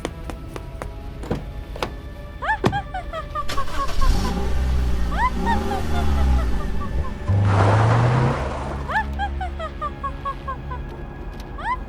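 A car engine revs and climbs in pitch, rising and falling while sharp honking, bird-like chirps sound repeatedly around it.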